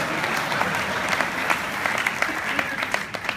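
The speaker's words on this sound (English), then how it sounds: "Yeah, you can clap for having stuff work." An audience claps steadily, a dense patter of many hands that holds at an even level throughout.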